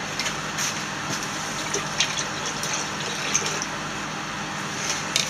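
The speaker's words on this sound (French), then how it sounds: "On va rincer ça." Water running and splashing as a glass is rinsed during colloidal silver making, a steady close gush with a few small clinks, no talking.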